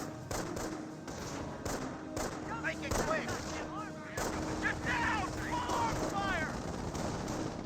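Machine-gun and artillery fire in a Company of Heroes 1 battle as an MG42 suppresses a rifleman squad, with repeated sharp bursts and thuds spread across the mix while a voice talks over the combat.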